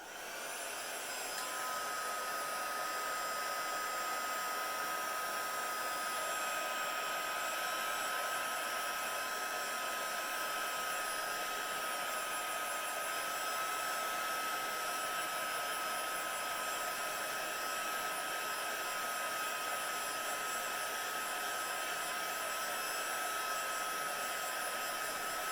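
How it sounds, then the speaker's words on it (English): A heat gun blows steadily at close range for hot foiling, a continuous airy whoosh with a faint high whine that stays even from start to finish, and no voices are heard. "My heat gun is coming back in again."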